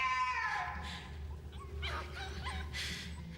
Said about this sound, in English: Now, shut that dog up.